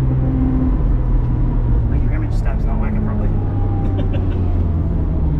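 A Nissan R32 GT-R driving, a steady low engine and road rumble heard from inside the car, continuous and fairly loud, with faint higher noises drifting over it.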